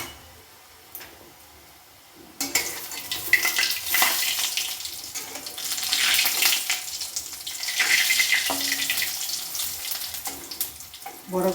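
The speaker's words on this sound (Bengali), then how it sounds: "এই যে বিস্কুটের গুঁড়ো মাখিয়ে রেখেছি, এটা আমি এক এক করে ভেজে নেব।" Green banana koftas coated in biscuit crumbs go into hot oil for deep-frying. After a quiet opening, a loud, steady sizzling hiss starts and bubbles on, rising and falling in intensity.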